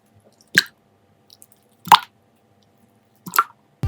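Clear fake water slime is squeezed and stretched in three distinct wet, squelching squishes with faint drips between them, close up and quiet in the gaps.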